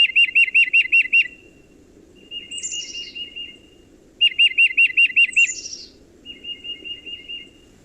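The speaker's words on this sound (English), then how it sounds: "The tufted titmouse." A tufted titmouse sings clear, repeated whistled phrases, a rapid run of up-down notes followed by steadier whistles, in two bouts, with a faint higher call mixed in, over quiet background.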